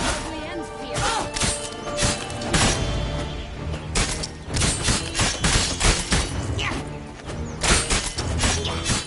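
Heavy gunfire from a big gun in a Witcher 3 battle, a dense run of booming shots, crashes and smashes packed close together and loud throughout, with voices mixed in.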